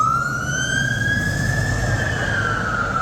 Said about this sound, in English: It's actually quite rare to see those US-style fire engines here in London.